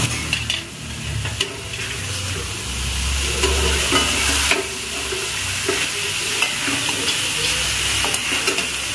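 Grated bottle gourd frying in ghee in a pan, a steady loud sizzle with continuous stirring scrapes running throughout.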